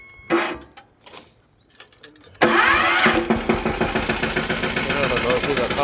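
A farm tractor engine starts after a moment of talking and quiet clatter, then settles into a loud, close, steady rhythmic chugging idle.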